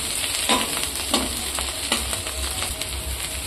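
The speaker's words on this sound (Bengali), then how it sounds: "এইবার একটু হালকা আঁচে নাড়াচাড়া করতে থাকবে।" Onions and eggs frying over low heat in a pan, a steady sizzle broken by repeated scraping stirs of a spatula at a regular pace, close and clear.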